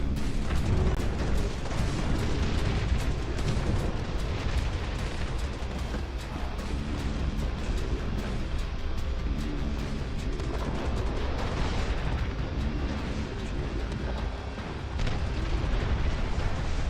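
Howitzer artillery in the real-time strategy game Dust Front RTS, heard as a dense, continuous barrage of booming blasts and rumbling explosions that stays loud throughout.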